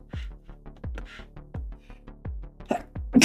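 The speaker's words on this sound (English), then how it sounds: "It's quite the sneeze." A single sneeze bursts out near the end, close and loud, after a series of soft repeated thumping and clicking sounds.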